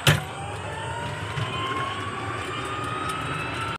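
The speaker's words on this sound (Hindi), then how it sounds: "यहाँ पे देख सकते हैं काफ़ी स्पीड में गाड़ी चल रही है" A Mahindra Treo Plus electric auto-rickshaw drives at speed, giving a steady, fairly loud drone of motor hum and road and wind rumble from inside the cabin, continuous with no one talking.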